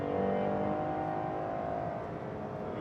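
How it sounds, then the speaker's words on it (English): A Ferrari Purosangue's naturally aspirated V12 holding a smooth, sustained high-revving howl close by, fairly steady with a slight easing toward the end. "V12 that howls its way to the red line."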